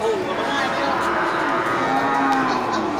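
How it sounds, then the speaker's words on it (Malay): Large cattle moo in a livestock stall in Indonesia, a steady, fairly loud lowing heard up close over constant background crowd chatter and barn noise for the whole stretch. "Ya, terlihat di depan kita itu banyak sapi besar yang punya Bang Iskandar kayaknya."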